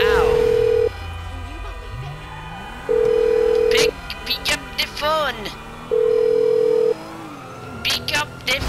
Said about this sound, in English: Pick up the phone, damn it!